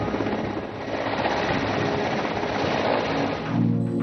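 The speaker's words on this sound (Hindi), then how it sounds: "इथूनच हवाई दलाची हेलिकॉप्टर्स बचाव कार्यासाठी उड्डाण करतात" Air Force rescue helicopters take off from an air base near Harsil in flood-hit Uttarakhand, a steady, loud rotor and engine roar that fills the whole stretch without a break.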